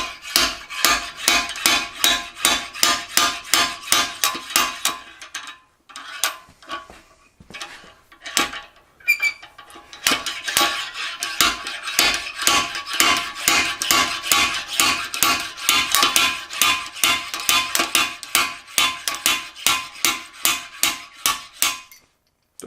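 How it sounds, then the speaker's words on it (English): A blind hole slide hammer pulls a soft transmission bushing from a C6 transmission on a 1980 F-350 service truck, striking in rapid metallic clacks with a short pause partway through, close and sharp. "I'm just going to remove the outer one here with my little blind hole slide hammer removal tool"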